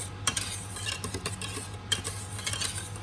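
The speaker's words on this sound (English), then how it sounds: "so just mix it in, fold it in" Peaches and cream coldset cheesecake filling is mixed and folded in a bowl, with a soft scraping swirl, light clinks of a utensil against the bowl and a steady low background hum, close and fairly quiet, without talk.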